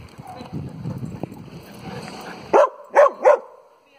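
A dog barks three times, close and sharp, after a stretch of quiet background noise and low murmuring.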